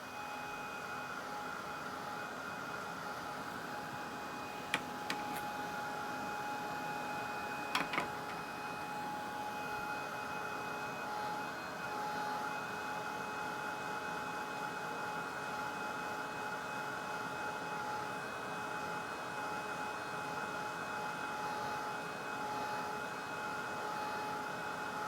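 A hair dryer blows steadily over a wet watercolor painting, a constant close whirring hiss that holds unchanged for the whole stretch, with a couple of faint clicks near the start.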